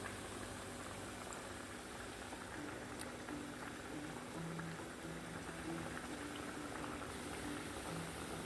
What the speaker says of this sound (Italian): l'altro cucchiaino lo lasciamo cadere nell'olio, in questo modo.